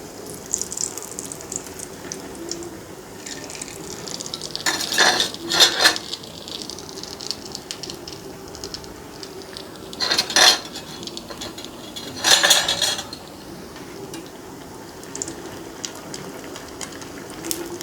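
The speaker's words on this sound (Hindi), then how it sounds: "जब कबाब की एक साइड फ्राई हो जाए तो हम इसकी साइड को पलट लेंगे।" Shami kebabs fry in oil with a steady soft sizzle, broken by a few short bursts of clattering and scraping as they are flipped in the pan.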